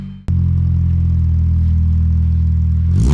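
A K24-engined CL9 racecar revs hard through a DIY 3-inch exhaust, a sudden loud, steady droning roar that holds for about three seconds before the pitch climbs at the end.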